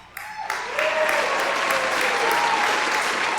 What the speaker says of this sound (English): The audience can decide which choice we go with by applause